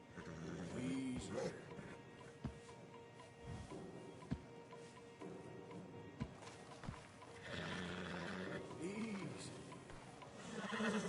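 Several horses whinny and snort nearby amid hoof movement in the video game Red Dead Redemption 2, with someone speaking calmly over them.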